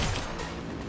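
A gunshot fires in the video game Cyberpunk 2077, a single loud dense burst filling the brief moment with no talking over it.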